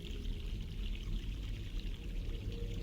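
Mountain stream water in the video game The Longest Journey, a steady close rush of pouring, bubbling water that flows continuously without pause or talk.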